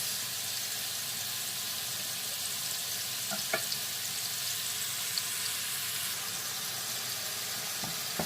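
Beef kefta meatballs sear in a pan for a tajine with eggs, giving a steady, even sizzle with a couple of faint clinks around the middle and near the end.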